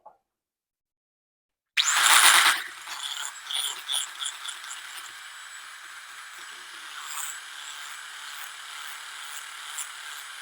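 An electric mixer starts up with a loud whirring burst and then beats red velvet cheesecake batter in a bowl with a steady, slightly rattling mechanical hum that carries on to the end.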